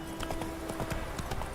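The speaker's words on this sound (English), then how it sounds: "Got the griffin's head on the horse. Run, Roach" Rapid hooves clip-clop in a steady galloping rhythm as a horse runs in The Witcher 3: Wild Hunt, carrying a griffin's head, close and clear over a dense game soundscape.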